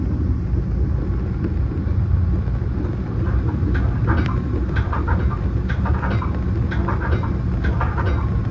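BNSF-operated Metra commuter train on a rainy express run from Aurora to Chicago, a steady loud low rumble and rolling roar with faint clicks and rattles on top, heard alone without talk.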